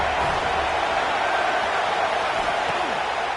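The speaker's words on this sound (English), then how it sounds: "The Tide crowd rolling noise down on the Saban field on 3rd down." A football stadium crowd at Alabama's Saban Field during a game against UCF roars on third down. The noise is a steady, dense, distant wall of sound that holds evenly throughout.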